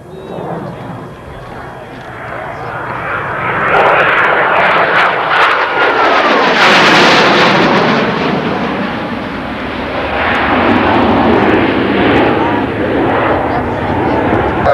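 A jet aircraft with four movable nozzles makes a high-speed pass at an air show, its roar swelling loudly as it sweeps by close overhead and then easing off, with an announcer's voice over the engine noise.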